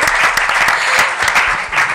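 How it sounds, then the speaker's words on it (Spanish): Loud audience applause at a seminar honouring flamenco guitarist Paco de Lucía, a full, continuous burst of many people clapping close by, with individual claps popping out of the dense wash. "Un aplauso para ese."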